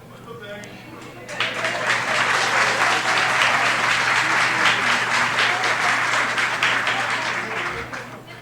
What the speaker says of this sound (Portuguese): Tive umas palmas.